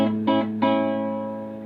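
A classical guitar is plucked in a short phrase from the Cheers theme, with a few clear notes struck close up and left to ring out and fade.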